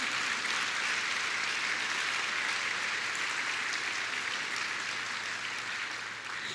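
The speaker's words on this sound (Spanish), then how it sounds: "Dale ese fuerte aplauso al Señor." A church congregation applauds during a Spanish-language sermon, a dense, steady wash of many hands clapping at once, loud and close, running unbroken for several seconds under a low organ-like hum.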